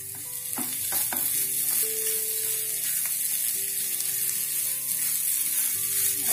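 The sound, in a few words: frying veg seekh kabab mixture while pressing it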